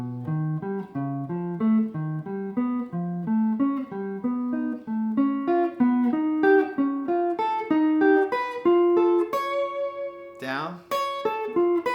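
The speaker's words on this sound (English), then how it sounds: "So if we did that in triads, it would sound like this." Augmented triads played on a piano and moved up and down in whole steps, a steady run of bright chords with sustained ringing tones, heard alone without talk.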